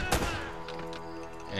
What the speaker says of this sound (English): That was a headshot and explosion all in one.